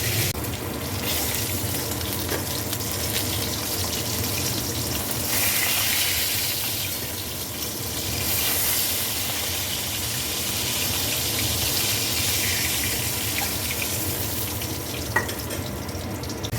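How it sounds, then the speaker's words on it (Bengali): Katla fish frying in a pan of oil gives a dense, continuous sizzle and hiss that swells and eases over time, loud and close with no talking. "এভাবে আমি সবকটা মাছ ভেজে নেব"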